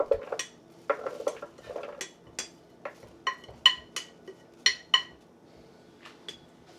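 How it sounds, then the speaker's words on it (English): Raw beets and sesame seeds scraped from a bowl into a Vitamix 780 blender jar, a series of irregular clinks and knocks of a utensil against the bowl, close and fairly quiet with no talk. "Now I'm adding the contents of the large bowl, which are the raw beets and the sesame seeds."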